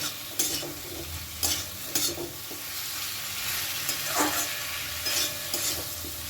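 Ridge gourd and green chillies frying in a pan, a soft constant sizzle with regular spatula knocks and scrapes every second or so, close by, no voices.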